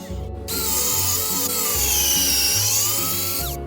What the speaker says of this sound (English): now I'm going to take and make a hole with my drill bit here